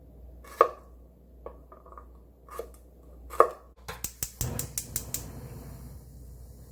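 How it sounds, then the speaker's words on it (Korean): A knife slices whole garlic cloves on a cutting board. A few isolated taps give way to a quicker run of crisp chops, close and fairly quiet, with no talking. "통마늘 한 8알 정도 편으로 썰어줍니다"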